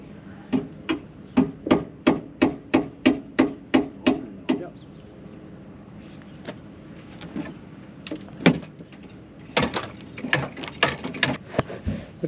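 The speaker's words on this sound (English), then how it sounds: "Now we got to get this door off so that we can move it" A damaged loader door is worked loose, with a rapid series of sharp metallic clanks and ratcheting knocks, then a pause and another burst of clattering hits, close and fairly loud.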